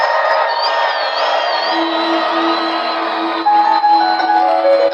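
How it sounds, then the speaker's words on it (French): Loud crowd cheering and joyful cries fill a stadium church service, a dense sustained roar with sung or shouted tones running throughout and swelling slightly near the end. "Est-ce que tu peux ajouter des cris de joie?"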